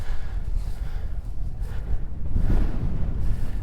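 Blustery wind of about 15 mph with gusts buffets and rumbles close by against a tent at a wild camp in the Southern Uplands, surging stronger toward the end with a low, roaring flutter.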